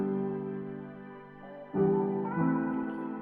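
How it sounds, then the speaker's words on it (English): A lush, airy synth string pad playing a piano melody pitched up about three octaves holds sustained bright chords, shifting to new notes partway through, smooth and steady with no percussion. "copy pasted the piano melody over to the lush strings, and then we're just gonna pitch this up"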